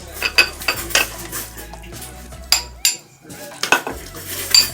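Dishes, bowls and spoons clatter and clink in a home kitchen while chicken and rice is plated, with irregular close bursts of clinks and scrapes and short pauses between them.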